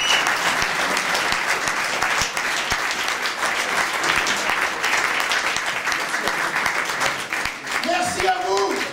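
Sustained audience applause for a band at a 2013 song competition, dense clapping filling the room for several seconds, with a short sung or voiced phrase near the end.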